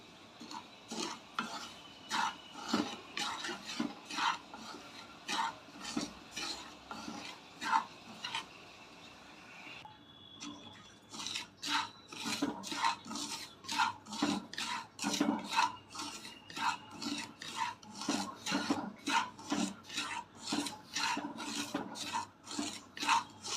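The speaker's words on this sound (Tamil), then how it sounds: "அடுப்பை சிம்மிலே வச்சு ரவையை கருகிராமல் வறுத்து எடுத்துக்குவோம்." Dry semolina (rava) scraped and stirred in a pan over low heat, a steady run of rhythmic raspy strokes, close and clear, with a brief pause partway through before the scraping resumes.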